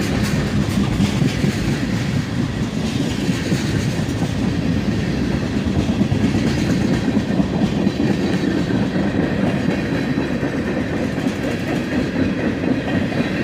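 A CSX manifest freight train made up largely of tank cars carrying LP gas rolls steadily past close by, with a continuous loud rumble and rhythmic clickety-clack of wheels over rail joints, no voices.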